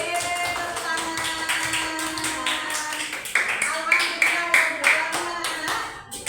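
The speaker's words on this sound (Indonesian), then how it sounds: "Tepuk tangan" Group clapping from children in a classroom lesson, a run of rhythmic, fairly close claps that build louder in the second half, with music playing underneath.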